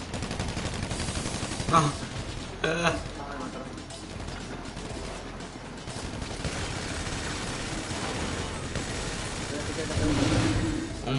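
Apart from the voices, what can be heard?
gunfire from the video game GTA 5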